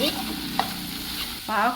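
Bitter gourd pieces with salt sizzle steadily in a hot pan while a spoon stirs and scrapes them, with a brief clink and a louder stir near the end.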